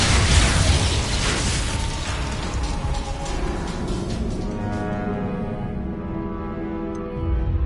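The Expulso blast spell in Hogwarts Legacy erupts in a loud burst at the start, then fades into a rumbling, crackling tail with mechanical clatter.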